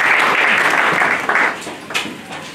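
A church congregation at an Easter Sunday service applauds loudly for about a second and a half, then the clapping fades into crowd noise and scattered voices.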